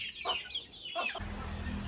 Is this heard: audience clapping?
no